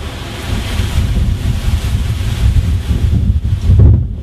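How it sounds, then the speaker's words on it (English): A big gust of wind roars across the microphone during a San Diego wildfire, loud, turbulent, rushing noise that swells and buffets continuously, with no talking. "here comes uh, another gust of wind here a big gust"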